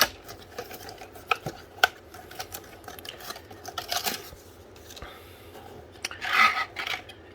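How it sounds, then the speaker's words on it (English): A cardboard box for an Arctic Alpine 23 CPU cooler is opened by hand, with quiet scattered scrapes, rustles and sharp little clicks close to the microphone. "so let's open the box here"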